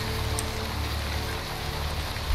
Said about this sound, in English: Well, it's raining now. It's always raining.